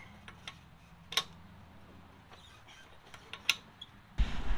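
Wheel nuts are checked by hand with a breaker bar or torque wrench: a few faint, scattered mechanical ticks and creaks close by, then a louder burst of noise at the very end.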